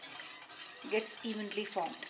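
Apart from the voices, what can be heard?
whisking milk into pasta sauce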